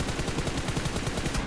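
Rapid bursts of automatic gunfire from a PUBG match rattle in quick succession. Shots arrive close and loud in a steady stuttering rhythm with no talk.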